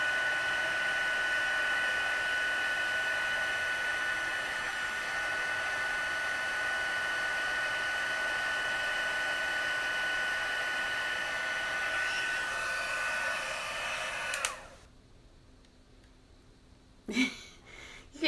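A heat tool blows steadily while melting copper embossing powder on a stamped card piece, a loud constant whir that stops abruptly near the end, followed by a couple of brief handling knocks.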